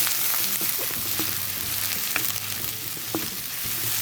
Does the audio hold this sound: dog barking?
no